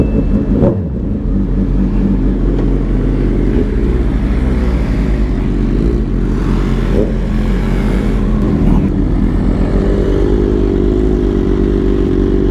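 Motorcycles ride off from a bikes-and-breakfast meet. The engines rumble and rev loudly and steadily close by, building and shifting as the bikes pull away, with faint voices under the noise.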